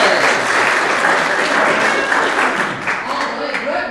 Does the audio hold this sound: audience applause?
yes